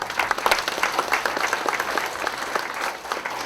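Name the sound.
audience applause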